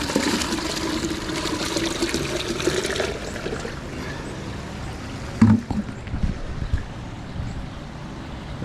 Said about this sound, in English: I'm gonna dump them in this white bucket so we can see just how many we got.